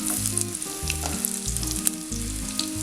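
Chopped shallots fry in coconut oil with a bright, continuous sizzle and crackle, close and steady, under a repeating low musical tone and with no speech.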